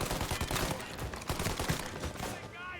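Rapid bursts of gunfire from a Mafia video game firefight, dense repeated cracks in quick succession, fairly loud and close, tapering off at the end.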